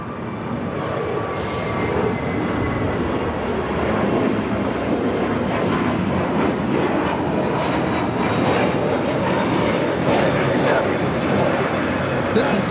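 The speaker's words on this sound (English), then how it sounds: "Another United A321 Neo taking off." A United Airlines Airbus A321neo takes off from LAX, producing a loud, sustained engine roar that holds steady throughout.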